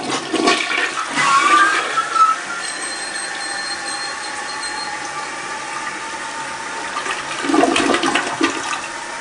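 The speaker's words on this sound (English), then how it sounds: "Oh my god, I don't think this is gonna flush." A grimy toilet flushing: a rushing gurgle of water swirling and draining for several seconds, close and fairly loud, with a thin whistling refill tone and a second surge near the end.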